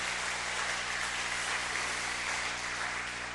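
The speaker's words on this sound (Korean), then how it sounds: "박수 한번 하겠습니다." Steady applause from a church congregation at a Korean Christian revival gathering, a continuous dense wash of clapping throughout, moderately distant and even, with no talk over it.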